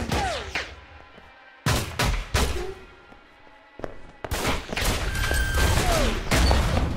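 Gunfire in an Alpha Protocol video game cutscene: sharp, close shots in irregular bursts with swooshing effects and gaps of quieter ambience between them.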